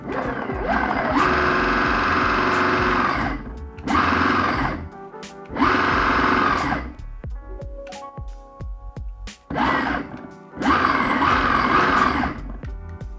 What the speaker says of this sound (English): let's see what the gear drive and the motor sound like